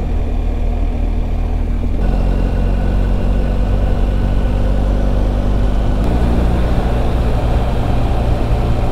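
A BMW R1250GSA motorcycle engine hums steadily while riding on a forest road, a constant low drone mixed with wind rush, with no talking.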